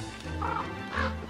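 A dog in the game Don't Starve gives two short barks, spaced about half a second apart, over a low steady background hum.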